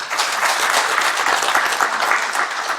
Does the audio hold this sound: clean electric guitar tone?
no